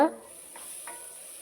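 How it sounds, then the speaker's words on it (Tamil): Tomatoes, garlic and onion sauté in a pan for a spicy kara kuzhambu, giving a steady soft sizzle with a couple of brief spoon scrapes as the mixture is stirred. "போட்டு தக்காளியை நல்லா வதக்கி விடுங்க. தக்காளி நல்லா மசிய வதங்கணும்."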